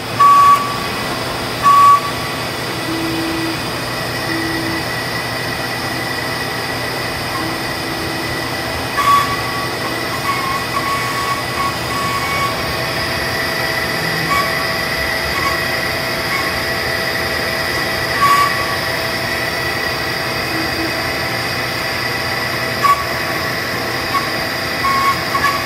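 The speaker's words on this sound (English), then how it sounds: "Now we're gonna turn on the forming wheels." Forming wheels of the Blue Valley #2 flanger, a railway machine, run with a loud, steady mechanical drone and tonal hum, with a few brief clanks near the start and scattered later.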